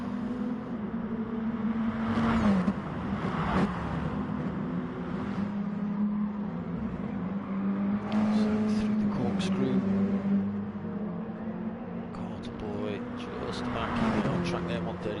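Mini Cooper race cars lapping the Laguna Seca circuit during a Mini Cooper Cup round, engines droning and rising in pitch as cars pass, under steady commentary talk.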